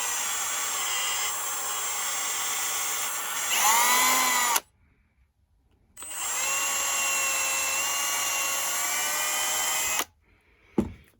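A power drill bores a pin hole through a metal knife blade, whining steadily in two long runs with a brief pause between them and a short final burst, pitch dipping under load.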